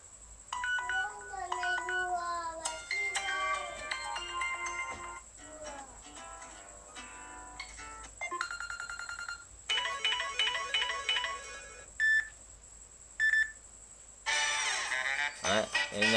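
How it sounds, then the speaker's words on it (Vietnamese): A melodic phone ringtone plays through several short tune snippets, bright and electronic, with brief pauses between some phrases. "Đây là tiếng chuông. Chúng ta thử."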